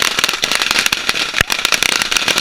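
Fireworks burst close overhead in a final show, with dense, rapid cracks and booms overlapping into a loud, continuous crackling barrage and one especially sharp blast.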